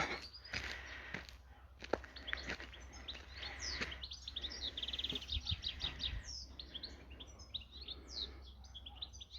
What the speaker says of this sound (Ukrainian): Включила, щоб ви послухали пташки.